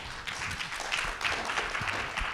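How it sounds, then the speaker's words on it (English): A conference audience applauds steadily, dense clapping sustained at a moderate, even level throughout with no talking. "Round of applause."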